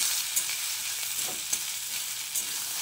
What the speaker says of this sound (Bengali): ভেন্ডিগুলো দিয়ে তেলের সঙ্গে ভালো করে নেড়ে চেড়ে মিশিয়ে নিচ্ছি।